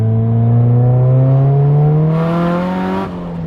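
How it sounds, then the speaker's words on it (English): A Nissan Silvia S15's SR20 four-cylinder engine with a screamer pipe revs up under acceleration on a highway, its rising harmonic pitch climbing steadily with a raspy, loud exhaust note close by, easing off near the end. "This SR20 sounds ridiculous with that screamer pipe."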